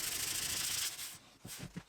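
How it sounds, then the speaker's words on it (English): Sandpaper scrubs the finish off the curved wooden edge of a cocktail cabinet, first in a dense continuous rasp, then in a few shorter separate strokes, close and fairly quiet. "Sanding worked well to remove the finish on the curved edge"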